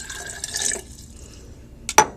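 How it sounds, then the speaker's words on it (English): Roughly 200 milliliters of water poured into a container for a fizzing-tablet lab, a brief close splash and glassy trickle that fades into quiet, ending with a sharp clink or splash near the end. "I'm going to pour in my 200 milliliters"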